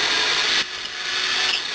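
Forstner bit boring a slightly oversized hole in wood, a steady loud grinding whir that drops abruptly partway through, then carries on at a lower, rougher level.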